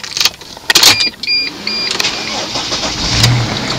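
A Mercedes Sprinter van's engine cranks and catches during key programming, short starter bursts and clicks giving way to a steady idle close by, with a brief electric whine partway through.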